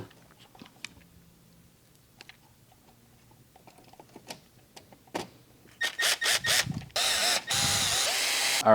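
A power screwdriver drives screws back into a multi-process welder's panel, with quiet handling clicks first, then several short whirring bursts and a longer final run.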